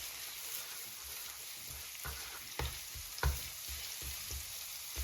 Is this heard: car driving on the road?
no